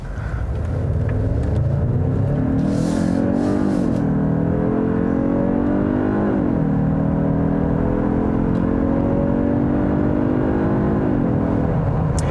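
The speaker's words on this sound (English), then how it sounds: "Very smooth shifting transmission for sure." A 2021 Genesis G80 sedan's 2.5-litre four-cylinder turbo engine accelerates through its 8-speed automatic, rising steadily in pitch and then dropping at each of several smooth upshifts. The drone is loud and close inside the cabin.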